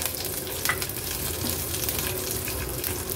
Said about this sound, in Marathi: नंतर ह्याच्यातच आपण 2 हिरव्या मिरच्या घेतल्या चिरून, त्या ऍड केल्या। त्या देखील तेलावर आपण अशा परतून घेऊया।